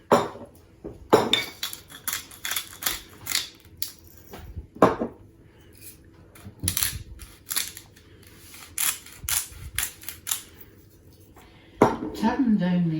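Potatoes tumble into a cooking pan with a run of clattering, clinking hits of metal and utensils, close and fairly loud, with a brief gap in the middle.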